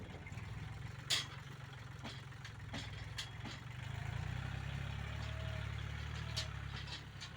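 The engine of a Kubota 40-horsepower farm tractor runs with a low, steady rumble, quiet and somewhat distant, growing a little fuller midway, with a few faint clicks on top.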